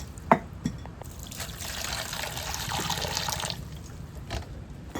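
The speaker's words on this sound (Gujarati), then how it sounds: "શાકમાં પાણી ખવાનું હોય ને" Water is poured into a fish curry in a pan, a steady splashing stream lasting a couple of seconds after a few clinks, heard close and without talk.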